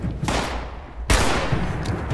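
Rifle fire from the video game Fallout 76 cracks twice in quick succession, each loud shot followed by a ringing decay.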